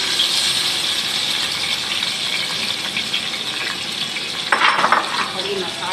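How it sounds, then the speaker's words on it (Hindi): Beef is dropped into ginger garlic paste frying in a karahi, giving a loud, continuous broad sizzle with a brief burst of extra crackle and a clatter near the end; no one speaks. "अदरक लहसुन का पेस्ट डाल दिया और ये हम इसमें गोश्त डालेंगे"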